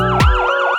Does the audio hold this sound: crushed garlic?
no